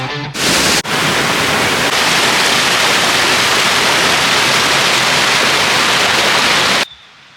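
The Cervérieux waterfall roars in a loud, continuous wash of rushing water heard from very close, with no voices, cutting off abruptly at the end.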